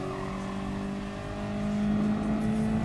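A race car engine in a racing video game runs steadily at moderate revs, then its pitch drops and climbs again at about 1.5 seconds as it short-shifts up into third gear, loud and alone with no talking.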